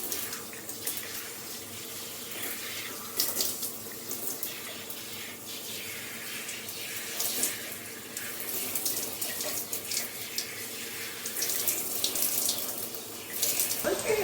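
Steady running water from a tap splashes continuously into a sink or basin for hair rinsing, fairly close and alone with no talk, its level holding even throughout with slight surges.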